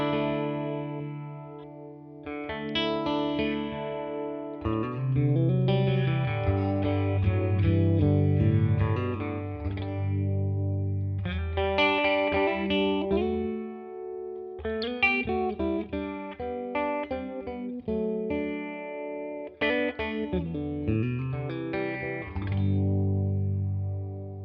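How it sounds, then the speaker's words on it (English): An electric guitar runs through a Univibe-style pedal voiced after the JHS Artificial Blonde, playing chorded phrases with a wobbling, swirling modulation and light grit, steady and close throughout. "I was trying to go for the sound of my JHS Artificial Blonde, the Madison Cunningham pedal."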